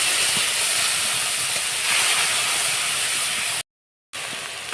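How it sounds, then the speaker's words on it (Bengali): Masala paste dropped into hot oil for a vegetarian jackfruit curry, a loud steady hiss and sizzle close up that runs without talk, cut by a brief silent gap before resuming. "এখন আমি এই যে পেস্ট মশলা পেস্টটা দিয়ে দিলাম"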